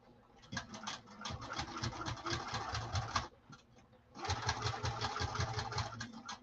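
A sewing machine stitches a saddle bag in two fast, rattling bursts of close, loud stitching, split by a brief pause of about a second.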